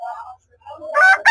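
A rooster crows loudly and close at a chicken market, with a short fowl call at the start followed by a strong strained crow.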